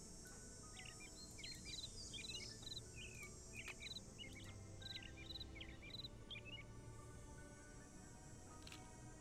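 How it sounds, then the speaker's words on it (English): Repeated short chirping bird calls ring out in the Nancy Drew: Ghost Dogs of Moon Lake game, set against a steady bed of insect and cricket drone, fairly quiet, with no voices. "I heard a bird."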